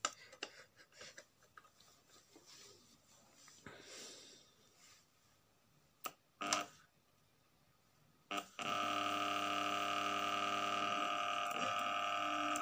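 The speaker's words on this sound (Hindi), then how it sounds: "ये सही डायरेक्शन में चल रहा है हमारा फैन" Usha table fan motor running again after repair, its steady electrical hum with a tonal whine starting abruptly after scattered handling clicks and bumps, then holding loud and constant to the end.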